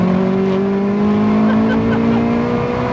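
Tuned 533bhp Vauxhall Astra VXR pulling hard from inside the cabin, a loud steady engine drone with rising tones and turbo spool, continuous with no talk.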